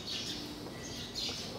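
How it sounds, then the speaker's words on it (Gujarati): Birds sing and chirp in the morning near a parking area, several calls rising and falling over steady background noise, fairly soft and unbroken throughout. "મસ્ત પક્ષીઓનો અવાજ આવે છે."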